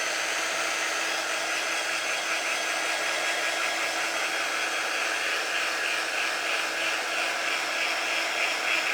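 A hair dryer blows on shimmer chalk paste on a craft piece, a steady loud airy whir that runs unbroken throughout with no talking.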